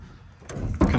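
A steel shipping container door slides open, a short scraping rumble that swells and ends in a louder metallic clunk, close by.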